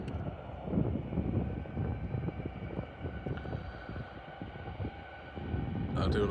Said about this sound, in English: I do love that sound of a plane's engines itself.